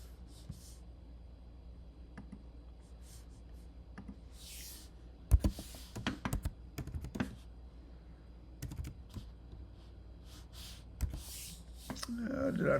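Keys tapped on a computer keyboard entering an IP address, quiet background with bursts of clicks in uneven runs and a few louder strikes, with talk in between.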